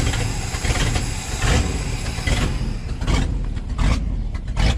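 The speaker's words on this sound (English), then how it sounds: "It is idling better than it was." A Highboy truck engine, running rich, idles steadily with a rough, constant rumble and small surges, close by and fairly loud.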